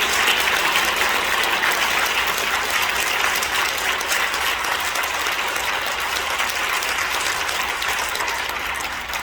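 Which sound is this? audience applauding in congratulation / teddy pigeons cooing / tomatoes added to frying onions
audience applauding in congratulation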